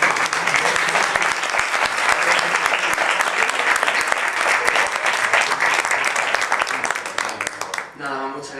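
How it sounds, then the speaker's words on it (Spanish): Dense, continuous audience applause at an academic lecture session on medicine and public health, steady and fairly loud for most of its length, fading at the end as a voice begins speaking. "quiero pedir incluso un aplauso"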